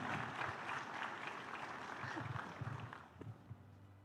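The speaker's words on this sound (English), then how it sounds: "A huge round of applause." A summit audience bursts into dense applause that holds steady, then thins out toward the end, with a voice breaking in over the last claps.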